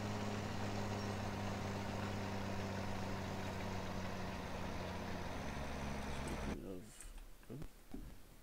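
Farm tractor engine running steadily with a low, droning rumble and hum, loud and close, then dropping off near the end as the sound shifts; a voice talks over it.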